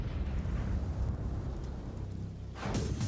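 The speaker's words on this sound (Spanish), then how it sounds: "Se le llama soldadura de explosión." An explosion welding blast: a deep, rumbling blast roars continuously, then a second sharp burst erupts near the end with a broad crackling roar.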